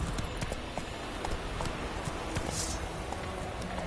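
Hoofbeats of Geralt's horse Roach in The Witcher 3, a steady clip-clop of hooves at a walking-to-trotting pace, moderately loud and continuous, with no talking over it.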